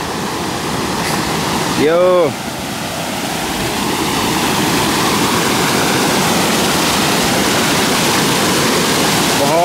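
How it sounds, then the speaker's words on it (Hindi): A waterfall at Barton Creek Greenbelt in Austin, Texas roars in a loud, unbroken rush of falling water close by; a man's brief call sounds over it early on. "बहुत ही खूबसूरत वाटरफॉल है इधर"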